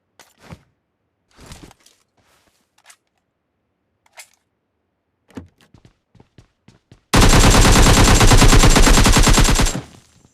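Rapid automatic gunfire in the PUBG video game, a dense burst of loud shots for about two and a half seconds after scattered quiet clicks and footsteps.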